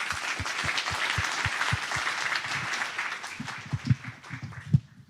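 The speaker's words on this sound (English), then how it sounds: "I suggest we give the panelists an applaud." Audience applause for the panelists at the close of a conference session on renewables in an interconnected energy system, a sustained round of clapping from a crowd, with a few louder claps standing out near the end.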